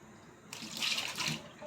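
Tap water running into a pot for boiling potatoes for potato salad in a home kitchen, starting abruptly as a steady, fairly close rush that swells for about a second and then eases off.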